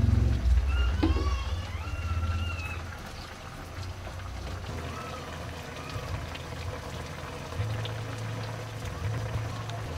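Fish simmering in coconut milk, a soft, low bubbling burble with faint liquid movement running steadily under the room, a few brief higher clinks early on, no speech.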